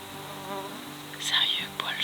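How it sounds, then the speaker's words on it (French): Flies buzzing around hunters in a Tourilli sector forest during a bear hunt, a soft persistent hum that swells and grows louder near the end. "les mouches, c'est débile comment il y en a"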